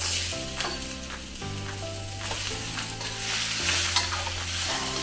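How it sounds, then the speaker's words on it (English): Onions and peppers stir frying in a pan for a chicken stir fry, a steady close sizzle with scraping and stirring clatter throughout, alone with no voices. "Stir frying."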